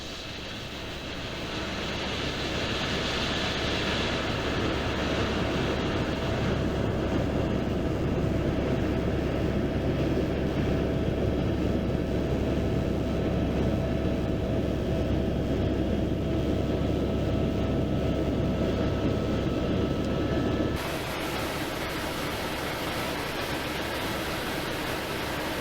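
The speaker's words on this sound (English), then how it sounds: "the helicopter flies perilously close to the edge of the valley" Steady, loud broadband roar of a helicopter flying close to the edge of a valley in New Zealand, unchanging for a long stretch with a slight shift in tone near the end.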